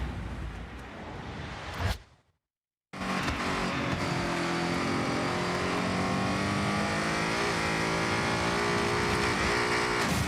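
Car engine under heavy throttle in Forza Horizon, a loud, sustained high-revving roar that cuts out for about a second near the start, then returns and holds at full throttle.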